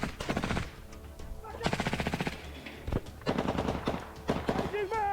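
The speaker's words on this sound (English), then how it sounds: "That doesn't stop the rest of the squad from compensating for the loss by increasing their volume of fire." A squad in battle in Ukraine fires machine guns, rapid bursts of gunfire repeating in several volleys, loud and close, with crackling shots and some voices mixed in.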